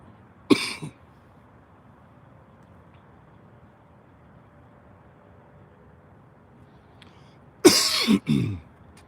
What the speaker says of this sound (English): I got a bad cough